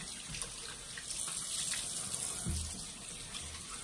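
Tap water runs steadily into a sink while a face is rinsed during a skincare routine: a continuous, close, even splashing hiss with no talk.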